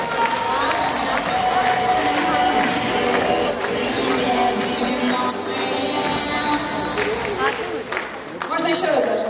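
Concert-hall audience at a university stage show applauding and cheering as a radio DJ is called onstage, a loud, sustained roar of clapping and shouts with a brief dip near the end.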